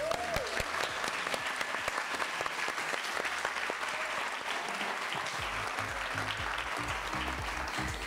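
An audience at a design awards ceremony applauds the outgoing chapter board with dense, sustained clapping at an even level throughout, with no talk over it.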